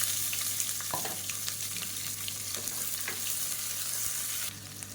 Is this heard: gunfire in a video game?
no